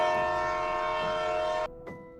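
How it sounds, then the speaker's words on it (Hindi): A train horn sounds as an effect in a ghost-train horror story: one loud, sustained, tonal blast that cuts off abruptly, followed by a faint short echo-like tail. There is no talking over it. "ट्रेन का हॉर्न"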